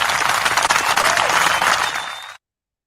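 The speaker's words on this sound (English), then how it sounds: "We got to give him the hand clap" Canned applause and hand clapping played from a soundboard during a live podcast: a dense, loud burst of clapping that runs steadily for about two seconds, then cuts off abruptly into silence.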